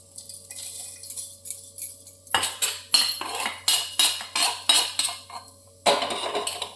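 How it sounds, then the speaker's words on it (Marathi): Roasted masala for Kolhapuri chicken curry is scraped out of a pan into a mixer jar. A metal spoon rasps and clinks against the cookware in repeated rhythmic strokes, close and clear, with short pauses between bursts. "मिक्सरच्या भांड्यामध्ये आपण ते काढून घेऊया."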